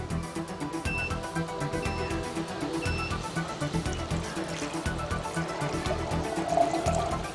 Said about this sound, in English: I'm going to fill it up with 150 cc's of regular tap water.